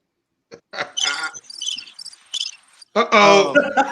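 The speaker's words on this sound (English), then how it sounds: "Crickets." Cricket chirps play as a sound effect, bright trilling bursts in a stuttering rhythm with short gaps, close and clear with no voices.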